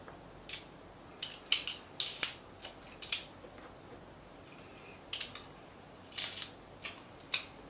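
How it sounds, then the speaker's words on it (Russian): A garlic press squeezes garlic cloves over a pan of cooking for meat-stuffed peppers in white sauce, giving a scattered series of soft, brief clicks and squelches, faint and close, with no talking. "А пока сюда можно добавить чеснок, выдавить."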